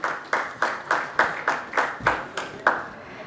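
At a galvanizing industry conference in India, an audience claps in a steady rhythm of about nine evenly spaced, roomy beats, moderately loud and fading slightly at the end.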